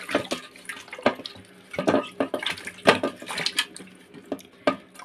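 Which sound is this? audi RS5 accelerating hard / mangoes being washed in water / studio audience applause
mangoes being washed in water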